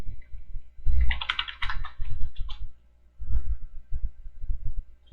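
Typing on a computer keyboard while entering a terminal command, with a quick burst of clicky keystrokes followed by scattered softer taps and short pauses, close and clear with no voices.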